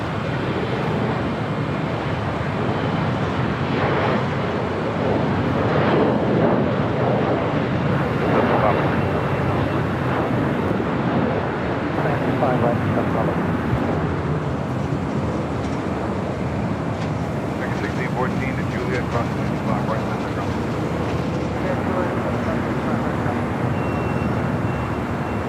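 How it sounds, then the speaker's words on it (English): A Delta Connection SkyWest Embraer E175 arriving from San Diego lands at Los Angeles airport, a broad sustained engine roar that stays steady throughout, with talk running over it. "coming in from San Diego, California, Delta Connection, SkyWest Flight 4001"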